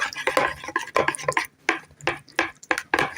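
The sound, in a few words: stirring eggs and wet ingredients in a bowl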